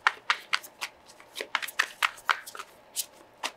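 Tarot cards handled and laid out on a table, a series of soft, close slaps and flicks at an uneven pace, each card landing with a light papery snap, and no one speaking.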